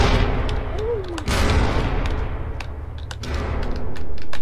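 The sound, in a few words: gun firing tank shells in People Playground video game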